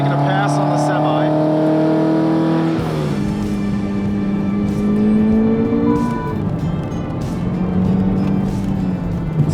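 Engine of a car accelerating hard to overtake a semi truck on a scenic driving road, a loud steady roar with rising tones, close and continuous, with voices talking over it in places.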